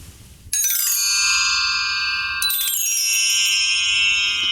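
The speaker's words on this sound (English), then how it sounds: "So these are bell trees." A bell tree is swept twice, each glissando of small nested bells cascading into a bright, shimmering ring that hangs and decays, close and loud with no talking.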